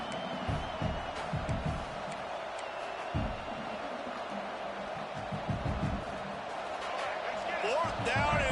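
A loud, dense roar of a college football stadium crowd during Penn State at UCLA, sustained and swelling with rhythmic thumps and whoops, under a commentator's talk.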